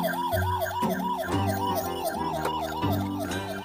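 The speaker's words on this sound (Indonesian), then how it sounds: "Nah, yang ini ada mobil ambulan, teman-teman. Ambulan mini ya. Ini ada bersuara dan lampunya." A toy mini ambulance plays an electronic siren, a loud, close wailing tone rising and falling in a repeating loop over a beeping melody.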